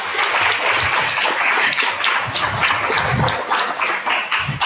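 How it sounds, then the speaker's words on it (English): Applause from the audience at a state poetry recitation final, thanking the judges and hosts: a full, sustained wash of clapping with a few low thumps mixed in, steady throughout. "give us another round of applause"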